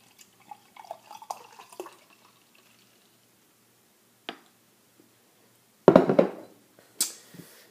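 Light beer poured into a glass from a can or bottle: a few faint drips early, then a loud, foamy pouring gush with a short second splash near the end, with no talking.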